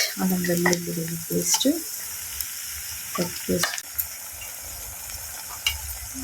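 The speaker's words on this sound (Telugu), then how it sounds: "ఆనియన్స్ మగ్గుతున్నాయండి. ఇందులో అల్లం వెల్లుల్లిగడ్డ పేస్ట్," Onions with ginger-garlic paste frying in a pan for a tomato dry prawn curry, a steady close sizzle with scattered stirring scrapes and clinks, busiest at the start and again midway.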